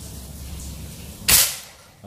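An AWM Classic Monel OD27 PCP air rifle with a 50 cm barrel fires a single shot: one sharp, loud crack that decays quickly after a quiet outdoor lead-in.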